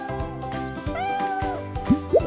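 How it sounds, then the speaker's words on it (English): A cat gives a drawn-out, wavering meow followed by two short chirping calls, close and clear against a light background of tinkling music. "A cat."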